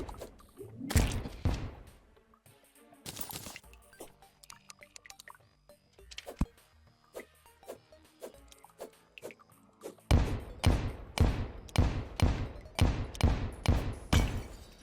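Explosions in Terraria, in a cave, go off as a rapid series of sharp, loud blasts. They come in bursts with short gaps, then a dense volley near the end.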